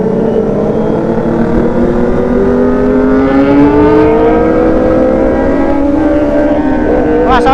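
A Kawasaki ZX-25R four-cylinder motorcycle revs hard on a night ride, its high whining engine note climbing and sweeping steadily over about seven seconds, loud and close, with other engines blending in.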